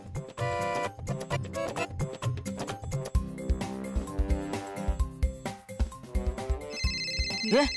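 A telephone ringtone plays loudly in repeated bursts, mixed with music-like tones and some voices, ending in a bright sustained ringing tone.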